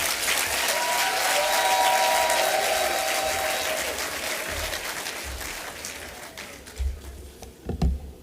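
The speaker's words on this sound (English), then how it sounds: "could I ask you to give a thunderous round of applause" Loud, thunderous applause from a large audience, a dense roar of clapping that swells, holds for several seconds, then thins into scattered claps and thumps near the end.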